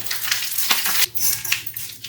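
Crackling, spitting sizzle of curry leaves dropped into hot oil for tempering, steady and close throughout with small pops.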